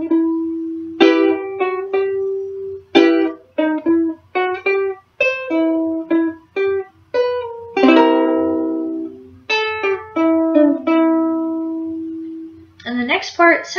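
A ukulele plays the first section of a theme riff, plucked single notes in a choppy, staccato rhythm with short pauses, bright and close, no voices.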